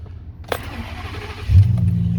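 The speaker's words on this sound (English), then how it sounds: "So it starts right up. It sounds great." A 2006 Ford F250 with a V10 engine, parked outdoors, cranks and fires up after a brief click, then settles into a loud, deep, steady idle rumble close by.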